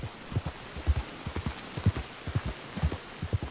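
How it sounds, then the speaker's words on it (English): Rain falling in Red Dead Online, with irregular soft drops and patters landing on surfaces close by, a steady scatter of small hits with no voices. "one thing I do like about this rain in this game is it's very relaxing"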